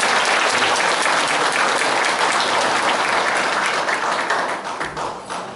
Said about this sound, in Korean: 성문원 석자 교수님께 다시 한번 감사의 박수를 보내주시기 바랍니다.